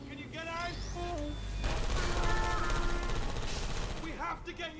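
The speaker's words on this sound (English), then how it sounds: "I heard gunfire!" Rapid gunfire in the Portal 2 video game, bursts of shots mixed with game music and tonal effects, with talk heard alongside.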